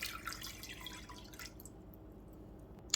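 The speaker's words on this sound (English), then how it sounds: "Let's go ahead and pour our water in here." Water poured into a measuring cup while mixing a pickling brine for small-batch pickled okra, a close, steady liquid stream trickling and dripping for about a second and a half before falling quiet.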